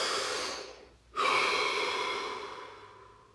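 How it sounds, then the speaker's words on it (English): A single deep inhalation drawn during a guided relaxation session, a brief pause and then a long, steady exhale close to the listener. "Deep breath."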